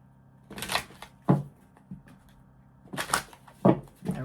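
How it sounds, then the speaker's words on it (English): Tarot cards being shuffled by hand: two bursts of riffling and card slaps, each followed by a few soft taps, close by and fairly quiet, with no talking. "A couple more shuffles here for my Aquarians."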